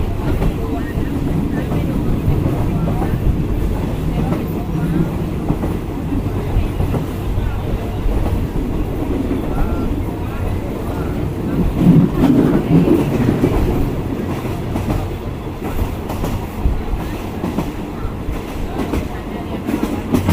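Train carriages rolling along the rails, heard from inside the second of five coaches on a trip from Surat Thani, a loud continuous rumble with faint clatter throughout.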